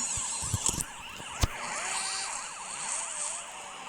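A police car siren wails in repeated rising and falling sweeps, fairly loud and steady, with a couple of sharp knocks near the start.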